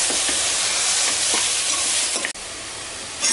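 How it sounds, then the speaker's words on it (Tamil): Mint and coriander leaves sautéed together in a pan for mutton biryani give a dense, even sizzle with a few soft stirring scrapes, close up, with no talk. "இது எல்லாத்தையும் ஒன்றா நல்லா வதக்கி விட்டுக்கோங்க"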